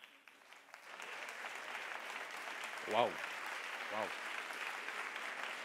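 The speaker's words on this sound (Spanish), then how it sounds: "Recibamos con un aplauso a Daniel Maldonado." A theatre audience applauds speaker Daniel Maldonado at the Tecnológica event, a continuous crowd of clapping that swells as he is welcomed, with a voice calling out twice over it.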